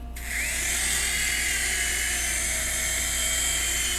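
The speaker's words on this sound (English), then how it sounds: "I'll be testing this drone." Small camera drone flying close by, a loud, steady high-pitched whine of spinning rotors that spins up at the start and then holds constant throughout.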